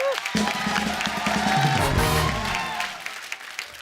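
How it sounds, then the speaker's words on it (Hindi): A comedy show audience breaks into applause and cheering after a stand-up punchline, a loud burst of clapping mixed with crowd whoops and voices that swells quickly and then fades out over a few seconds. "मेरी इस स्मार्ट इंटेलेक्चुअल बात के लिए जोरदार तालियां बनती हैं"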